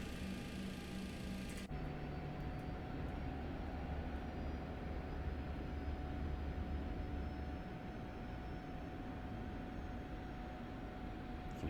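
An MD-11 auxiliary power unit in Microsoft Flight Simulator, on a FedEx cargo jet, shifts abruptly and then settles into a steady, close, continuous roar with a thin sustained whine running through it. No one speaks.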